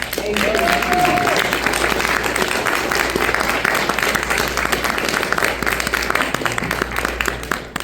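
An audience at a reading event welcomes a novelist with sustained, close, dense applause lasting the whole stretch, steady and even with no talk over it.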